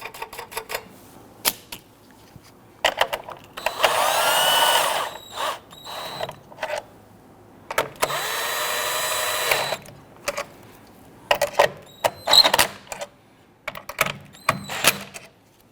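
Nuts being run down by hand on a battery hold-down clamp in a 2010-2019 Ford Taurus, giving close, crisp bursts of ratcheting clicks in two longer spells amid short scattered taps and pauses.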